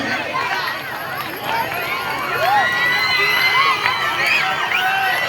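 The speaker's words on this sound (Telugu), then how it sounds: "వారందరికీ కూడా మన కరతాళతో గట్టిగా చప్పట్లు" A large outdoor crowd at a Republic Day display cheers, whoops and shouts continuously, with children's voices and loud chatter filling the air throughout; clapping is not distinct beneath the noise.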